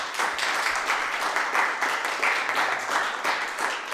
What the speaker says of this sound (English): give yourselves a round of applause for taking a chance on this event